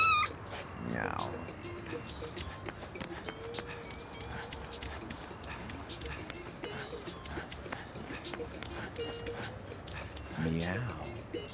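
Meowing cat sounds in the No More Heroes video game, several calls spread through the stretch over busy game noise and clicks, with a person talking in places.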